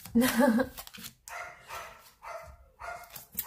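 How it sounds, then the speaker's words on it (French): A dog barks in four or five sharp, separate bursts spaced about half a second apart, fairly close and moderately loud, with a brief whine-like cry at the start. "Et voilà que j'ai le chien qui s'y met."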